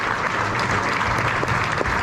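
A theatre crowd at a West Ham legends night at the Adelphi Theatre gives a full, loud round of applause, thick and continuous throughout the short burst.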